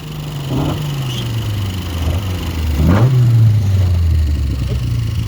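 A Ford Escort rally car engine drones and then revs up sharply before holding a higher, rasping pitch, heard loud and fairly close.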